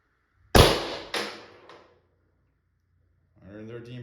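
An Umarex HDP50 pistol fires without a silencer: one sharp, loud crack with a short echo tail, then a quieter second pop. A voice speaks briefly near the end.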